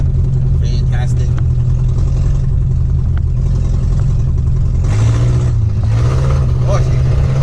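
A Datsun 1500 ute engine runs loud and close in second gear, with a steady low rumble that rises as it revs and pulls, and a voice speaks over it.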